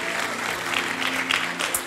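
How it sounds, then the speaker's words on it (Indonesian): A church congregation at a worship service claps loudly, dense, sustained applause filling the room with a faint voice underneath. "yang bangga boleh kasih tepuk tangan yang paling keras buat Tuhan kita"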